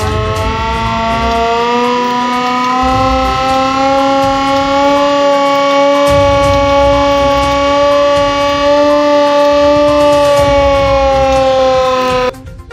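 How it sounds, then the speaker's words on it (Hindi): A civil defense siren sounds at Hazratganj crossing in Lucknow on Mahatma Gandhi's death anniversary, a loud, steady wailing tone that holds for the whole stretch while traffic engines rumble faintly underneath. "नागरिक सुरक्षा संगठन ने हजरतगंज चौराहे पर बजाया सायरन"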